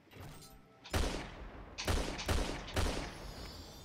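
Several loud gunshots ring out in a Fortnite match, with four sharp booming reports spaced about a second apart over a faint game background.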